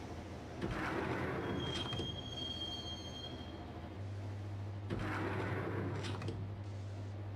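Subway train from Max Payne riding along after its doors shut, with a steady rumbling roar, wheel squeals and a thin high screech, and clattering surges as the carriage rolls on.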